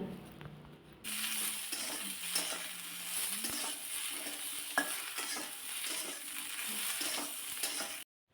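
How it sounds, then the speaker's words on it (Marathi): Okra sizzles in hot oil in a pan, a steady close frying hiss that starts abruptly and continues with occasional stirring scrapes and clinks. "तेल तापलेलं आहे त्यामध्ये मी आता सगळ्यात अगोदर भेंडी घातली आणि भेंडी थोडीशी भाजून घ्यायची आहे"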